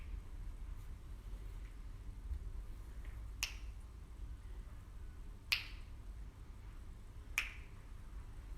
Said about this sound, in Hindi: मैं चुटकी बजाऊंगा